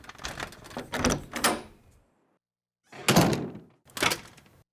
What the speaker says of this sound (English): Just a second, I'll open the door.